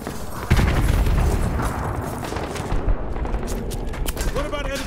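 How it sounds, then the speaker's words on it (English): An RPG rocket blast in the Modern Warfare 2 Remastered video game, a sudden loud boom followed by crackling gunfire and rumbling, with shouted voices mixed into the battle noise. "RPG!"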